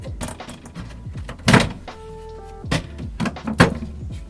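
A camper van compartment door is worked open with a series of knocks, clunks and latch clicks, plus a short humming tone in the middle, close and fairly loud.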